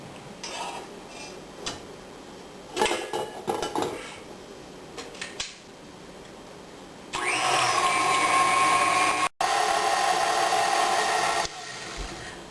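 An electric mixer beats a cream of tartar mixture at medium speed for a campfire tart, a steady loud whir running for several seconds after some clinks of bowls and utensils.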